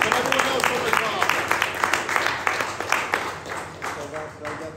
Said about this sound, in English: Round of applause for us